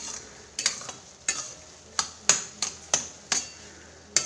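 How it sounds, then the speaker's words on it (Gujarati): A ghee-roasted adadiya flour mixture is stirred in a pan until it turns reddish, giving a soft sizzle under crisp, regular scraping strokes about twice a second, close and fairly quiet with no voices. "લાલ થાય ત્યાં સુધી શેકવાનો છે"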